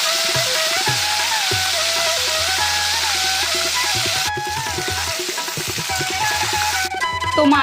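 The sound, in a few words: fish head frying in a wok on a gas stove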